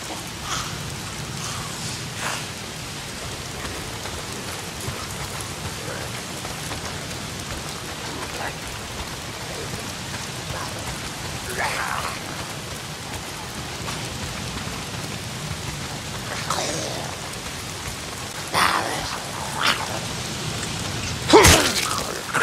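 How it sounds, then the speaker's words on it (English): Heavy rain pours steadily in the open-world zombie game Days Gone, a dense constant hiss with a few louder splashes and faint distant rumbles near the end. "If it's not the freaks, it's the goddamn rain. Why is it always raining?"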